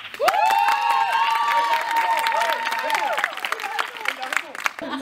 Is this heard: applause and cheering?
yes